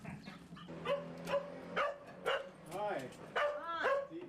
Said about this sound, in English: a hyperactive, camera-shy dog